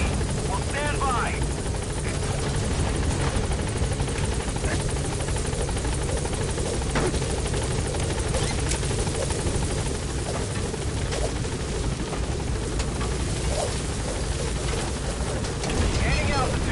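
The Pequot helicopter in Metal Gear Solid V lifts off, its rotor roar a steady loud wash lasting throughout, with faint bird-like chirps and small clicks over the top.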